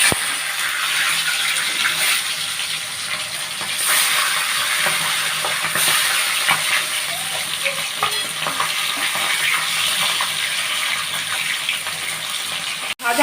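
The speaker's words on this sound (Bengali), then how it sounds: "মাছ ভাজাটা প্রথমে করে নিই বন্ধুরা।" Bogo fish frying in a pan makes a loud, continuous sizzle and crackle, with scraping and clinking from stirring breaking through now and then. No one speaks.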